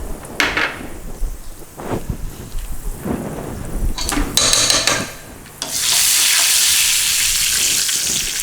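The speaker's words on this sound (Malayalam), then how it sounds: "ഉള്ളി ഇട്ടു, അങ്ങനെ താളിച്ചു" Curry leaves and onion hit hot oil for a sambar tempering, starting with scattered clatters and handling noises, then breaking into a loud, steady hiss of frying that holds to the end.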